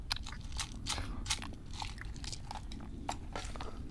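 Someone bites and chews food dipped in salt, a run of close, crisp crunches and wet chewing sounds repeating unevenly for several seconds, with no talking.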